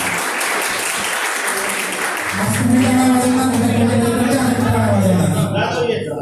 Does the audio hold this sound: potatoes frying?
no